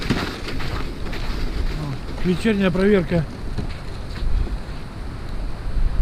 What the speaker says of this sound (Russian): Ветер не стихает